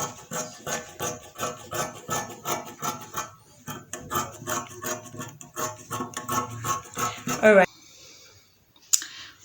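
Scissors cut through black fabric for a bralette, a steady rhythmic series of close crisp snips and rasps, then a pause with a brief rustle at the end.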